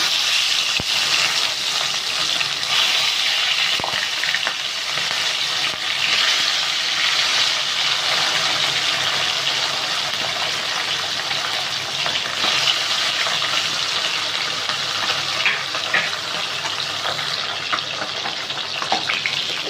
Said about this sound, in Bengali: তেলটা গরম হয়ে গেলে হাই ফ্লেমে মাছটা ভাজবো।